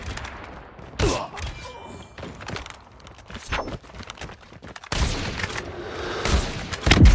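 Gunfire in a video game deathmatch, with several sharp shots and short bursts spread across the clip, some close and loud, while players chat faintly underneath.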